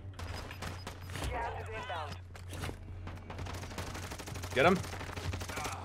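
Video game gunfire from enemies, a mix of distant rapid bursts and single shots in a busy firefight, partly under players talking over voice chat.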